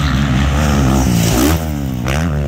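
A 2022 GasGas 450 MC motocross bike revs hard through a corner, its loud, close engine note rising and falling with throttle changes and a sharp burst near the end.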